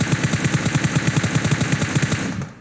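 Rapid automatic gunfire in a battle royale video game scrim match, a fast even burst of shots lasting over two seconds before trailing off, loud and close with no talking over it.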